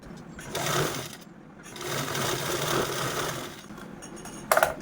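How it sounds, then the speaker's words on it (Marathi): A sewing machine stitches a fabric pocket fitted with a zip, a close rapid mechanical whirr in two bursts with a short pause between them and a clink at the end, with no talking. "बघा अशा पद्धतीने आपण या स्टिच करून घेतलेला आहे"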